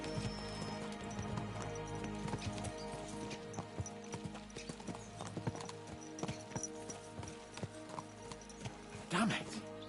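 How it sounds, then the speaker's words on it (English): Horse hooves gallop in the medieval video game Kingdom Come Deliverance 2, a steady rhythmic clip-clop running throughout with a brief whinny near the end, mixed with game ambience. "Let's really spur these horses on, eh?"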